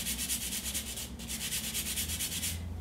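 A potato scrubber brushes the outside of a carrot in close, rhythmic rubbing strokes, about a dozen quick scrapes with a brief pause in the middle, with no talk over them.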